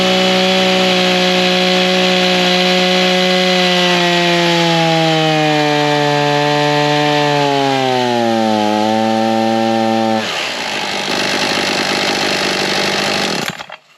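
An Echo 4910 chainsaw with a 50cc build roars loud and close as it cuts wood, its engine pitch dropping steadily under hard pushing before it rises again toward the end of the cut.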